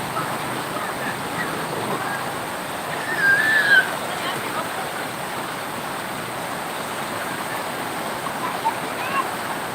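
Strong floodwater rushes steadily after days of heavy rain, a constant broad roar with a brief louder swell partway through.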